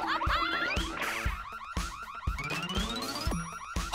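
A wailing, warbling alarm in a cartoon, cycling through rising and falling electronic tones with bouncy cartoon effects mixed in, fairly loud and continuous.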